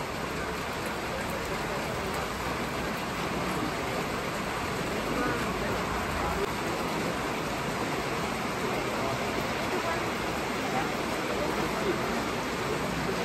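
Heavy rain pouring steadily and loudly during the Hornbill Festival at Kisama, Nagaland, a dense unbroken hiss that lasts throughout with no voices.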